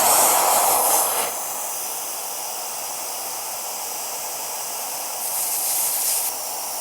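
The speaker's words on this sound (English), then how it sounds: "That's the basics of how this electric air duster works." Jufinx electric turbo fan air duster blower, a high-pitched airy whoosh and whine in two bursts, at the start and again near the end, with a softer fan hum between them, close up.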